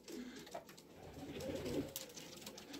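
Racing pigeons arriving at a home loft after a 195 km race from Chimay, France, with soft cooing and bird calls over faint, steady outdoor background noise.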